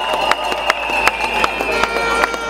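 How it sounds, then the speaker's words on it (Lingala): A crowd at a political gathering in the Democratic Republic of Congo cheers and acclaims loudly, with rhythmic bursts of shouting and clapping recurring roughly every third of a second over a sustained, dense roar. "acclamons très fort les Milolo"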